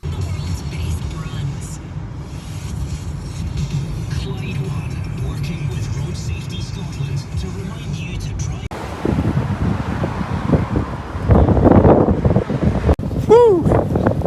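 Strong wind buffets the microphone outdoors on a blustery day, a constant low roar that gets louder and gustier in the second half while someone speaks over it.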